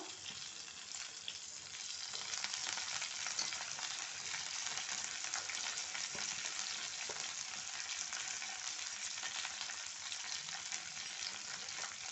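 Mint, ginger and garlic fry in hot oil in a pan, giving a steady, dense sizzle that holds evenly for the whole stretch, with no voices.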